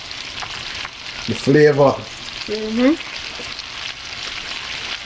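Lamb chops searing in a hot pan, a soft steady sizzle running throughout, with a young voice speaking briefly over it.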